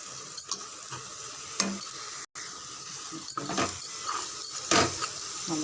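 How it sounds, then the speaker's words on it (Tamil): Ground masala paste sautéing over low heat in a pan, a steady sizzle broken by scraping spoon strokes and clinks, with one brief cut in the middle. "ஒரு நிமிஷம் வதக்கினா போதும்"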